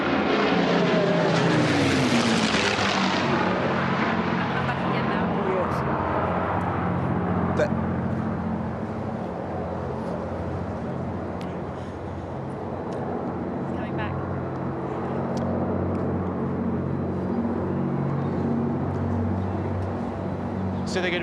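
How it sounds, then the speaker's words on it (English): A Hurricane and a Spitfire, both propeller-driven fighters, pass overhead with a loud rising engine roar that fades into a steady droning hum as they fly on nearby, with voices talking over it. "I'll let everybody listen now to the lovely sound of the Hurricane and Spitfire"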